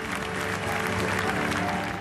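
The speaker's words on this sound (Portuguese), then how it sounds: "Ele foi aplaudido de pé." A theatre audience gives Lionel Messi a standing ovation at the Ballon d'Or 2023 ceremony, a dense, steady wash of clapping that holds at full strength throughout.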